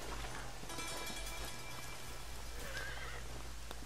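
Horse neighing in the Red Dead Redemption video game: a whinny rises over steady rain patter and low ambient rumble, with no talking.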